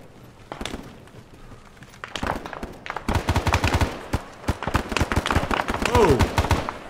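Rapid bursts of gunfire in the SOG Prairie Fire Vietnam War video game, during a river assault, building from scattered shots into dense, loud automatic fire with voices talking over it.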